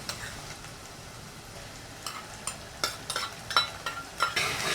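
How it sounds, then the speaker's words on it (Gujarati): Ginger, chili and garlic paste sautés in a pan for a peanut and cashew curry, with a steady low sizzle broken by several sharp scraping stirs that grow busier toward the end. "સુગંધ આવે ને ત્યાં સુધી આ બધું સાતડી લેવાનું છે"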